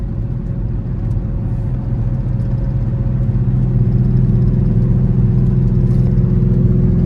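Steady in-cabin drone of a car cruising on a freeway, a continuous low rumble and engine whir that holds level and swells slightly louder toward the end, with no talking.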